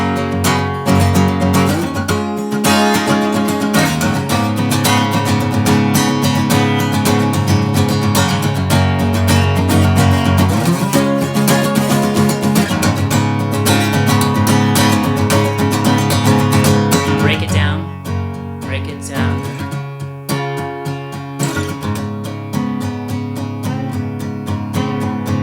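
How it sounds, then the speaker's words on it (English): Full bar chords strummed on an overdriven electric guitar, a dense, continuous, loud wall of chords with steady rhythmic strumming, easing slightly in the final stretch. "I'm gonna play full-blown bar chords and start mixing between the two"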